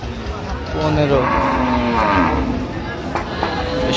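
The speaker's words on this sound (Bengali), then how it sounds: "গাভী বাছুর আমরা দেখছিলাম এখানে।" Dairy cows and calves at the Ambari cattle market in Dinajpur, with one loud drawn-out moo near the middle over busy market crowd noise and murmuring voices.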